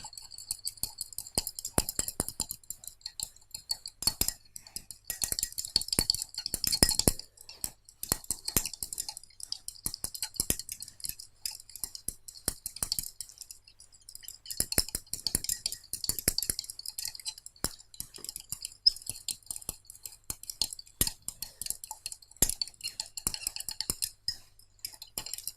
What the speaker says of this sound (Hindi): अब मैं स्पैचुला की हेल्प से थोड़ा और नमक डालूंगी। इसे फिर से स्टेयर करेंगे।